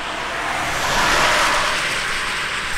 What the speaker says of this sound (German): Jetzt kommt ein Auto. Es kommen direkt mehrere Autos.